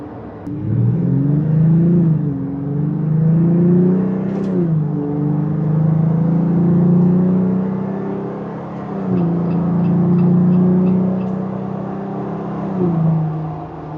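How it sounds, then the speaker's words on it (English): A Jeep Gladiator Rubicon on off-road tires drives along, its engine rising and falling through gear changes under a steady, moderate road and tire hum heard from inside the cab. "You can hear the tires a little bit, but they're not too loud."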